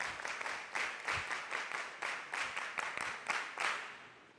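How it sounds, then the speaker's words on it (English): An audience at a Sabbath afternoon church gathering claps in quick, fairly even bursts, with a nearby crowd clapping alone and no talk. "Let's give a big clap."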